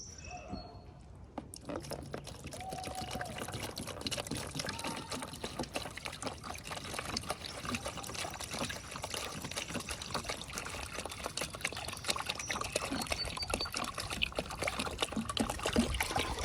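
Fresh water pours steadily into a goat's water container, a continuous splashing trickle that grows slightly louder and fuller as it goes on.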